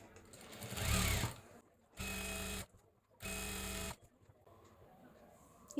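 A sewing machine stitches the folded hem of a child's ruffle frock in two steady, rapid bursts of about a second each, close and clear, after some fabric handling and a quiet voice.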